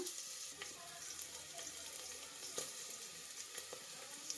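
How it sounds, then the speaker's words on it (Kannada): Ginger garlic paste fries in a pan while mutton sambar is being cooked, giving a steady, close sizzling hiss with a few sharp stirring clicks and no talk. "ಈಗ ಇದನ್ನು ಚೆನ್ನಾಗಿ ಹಸಿ ವಾಸನೆ ಹೋಗೋವರೆಗೂ ಚೆನ್ನಾಗಿ ಫ್ರೈ ಮಾಡ್ಕೊಬೇಕು"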